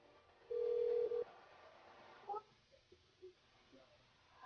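A telephone call is placed to a radio station switchboard: one steady electronic tone lasting under a second, then a few faint dialing blips and clicks, with quiet room noise between them.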